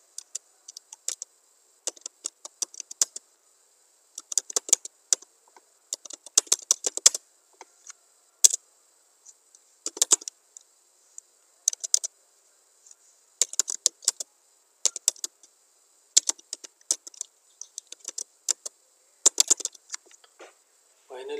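Computer keyboard typing comes in quick clustered bursts of light clicks with short pauses between them, close and fairly quiet, during work in Microsoft Excel.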